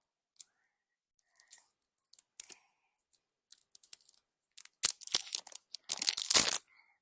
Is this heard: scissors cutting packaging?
yes